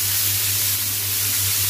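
Chopped onions frying in a pan for a Hilsa fish dopeyaja turning golden, giving a steady close hiss under a low constant hum, with no pauses across the short stretch.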